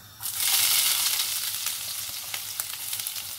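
Finely chopped ginger and garlic hit hot oil and break into a loud, steady sizzle that starts abruptly and keeps frying close up, with faint stirring clicks, while preparing restaurant-style chilli chicken.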